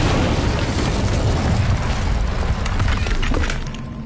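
An Incendio fire spell in the Hogwarts Legacy video game bursts out as a loud, dense, roaring blast that holds steady for several seconds before easing off at the end.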